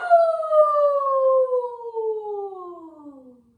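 A voice imitates a wolf howling at the moon, one long, loud, sustained howl that slowly slides downward in pitch and fades out over several seconds.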